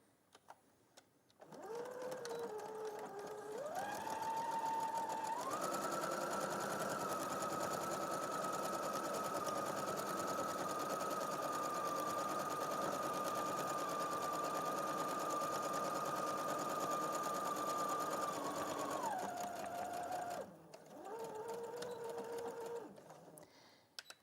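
A sewing machine runs steadily, laying binding stitches over overlocked fabric, a close, continuous mechanical whir that speeds up after starting, holds for about fifteen seconds, then slows and stops with a brief final burst.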